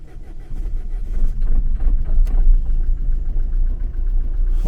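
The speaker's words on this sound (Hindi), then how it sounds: "अब देखते हैं जाके गाड़ी स्टार्ट होती है कि नहीं अपनी।" Car engine starting and settling into a steady idle in snowy mountain conditions near Chitkul. A rising crank and catch give way to a loud, continuous low rumble that holds through to the end.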